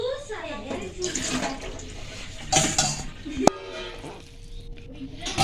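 Chopped cabbage squeezed by hand in a kitchen to press out its water: close, wet squelching and dripping with a few clinks of a bowl or utensil, steady and fairly soft.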